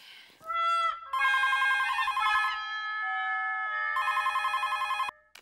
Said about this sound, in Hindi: क्या फोन को देख क्या रहा है, जाके उठा।